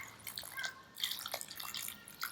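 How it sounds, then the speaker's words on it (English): Water is poured over soil onto a planted bulb, making quiet splashes and trickles at close range. "I'm going to give it a really big drink of water, because we know that plants need water"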